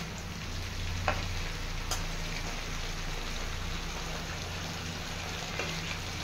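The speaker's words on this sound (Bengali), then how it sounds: "এটা গরম হলে লবণ দিয়ে মাখিয়ে বেলে মাছটাকে ভেজে নিচ্ছি।" Salt-rubbed beley fish fries in hot mustard oil, making a steady, dense crackling sizzle with a low hum beneath and a couple of faint clicks.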